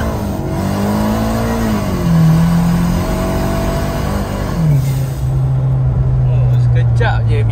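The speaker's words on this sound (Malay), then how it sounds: "Gila tayar spin tekan macam tu." A tuned 180 hp Perodua Kelisa hatchback accelerates hard on a road test with its tyres spinning, the engine droning loudly and climbing in pitch before dropping at a shift and pulling again.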